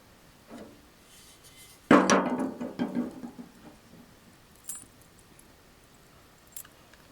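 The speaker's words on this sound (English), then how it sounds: "Now bolt the base frame to the table." Metal parts of a GEARWRENCH adjustable mobile work table clank and rattle as the base frame is bolted to the table, one loud clattering burst followed by a few lighter taps and knocks.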